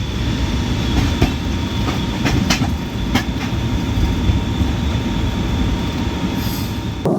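The Garib Rath Express from Chennai to Hazrat Nizamuddin runs steadily on the rails with a continuous loud rumble, a few sharp clicks and faint wheel squeals over the track joints, and no voices.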